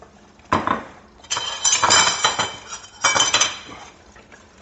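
A spoon scrapes and clinks against a metal pot while meat, rice and gravy get stirred, giving several bursts of clattering and scraping with short pauses between them, close and fairly loud.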